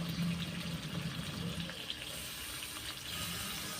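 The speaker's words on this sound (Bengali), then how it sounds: "অল্প করে জল দেব।" Water being poured into a pan of Bihari-style chicken masala, a soft steady trickle and splash that runs throughout, close but fairly quiet, with no talking.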